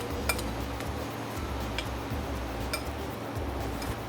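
Brown fried onion being mixed into a vegetable tricolor biryani with a metal utensil, giving soft scraping and light clinks of metal against the pot, a few sharper ticks over a steady low background, with no talk.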